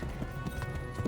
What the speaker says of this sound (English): Should have gotten out of the middle of the road when you heard the horses galloping